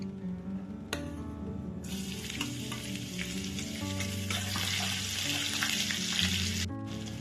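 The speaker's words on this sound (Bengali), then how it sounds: "আর সামান্য কালো সর্ষে ফোড়ন দিলাম ফুটে এসছে এর মধ্যে আমি কোচানো রসুন দিচ্ছি" Crushed garlic dropped into hot oil tempered with cumin and black mustard seeds, bursting into a loud, dense sizzle that continues steadily with faint stirring, close up with no voices.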